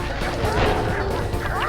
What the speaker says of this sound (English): they give you an audio cue for when they release roosters